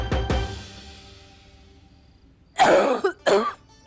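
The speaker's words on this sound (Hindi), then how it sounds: "लेकिन आपकी खांसी इतनी अचानक से बढ़ कैसे गई?" One person coughs twice in quick succession, close and loud, after a quiet stretch with a brief low thump at the start.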